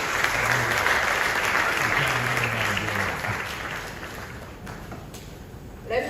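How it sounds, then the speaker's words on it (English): A large crowd applauds loudly and steadily, the clapping slowly tapering off toward the end. "A round of applause for her one more time."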